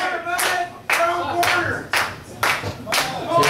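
A wrestling crowd at a tag match claps in rhythmic, evenly spaced bursts, about seven loud waves of applause close together.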